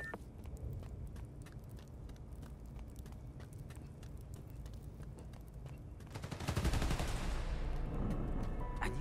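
Rapid gunfire aimed at electrical transformers at a substation in the video game Marvel's Spider-Man: Miles Morales, a fairly quiet, steady stream of sharp shots that swells into a louder rushing burst near the end.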